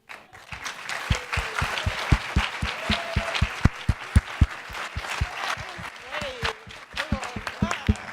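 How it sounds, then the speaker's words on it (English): An audience applauds at a community event, a steady crowd clapping with sharp, louder claps standing out near the front, while voices cheer and talk over it. "Give a round of applause again for Alpas"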